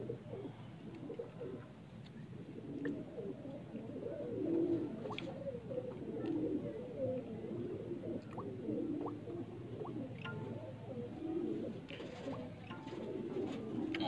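Pigeons kept by a breeder coo on a Punjab rooftop, a steady chorus of soft, rolling calls repeating close by with a faint background hum.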